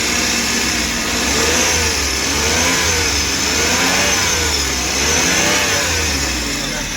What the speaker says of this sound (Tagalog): Maganda pa makina nito.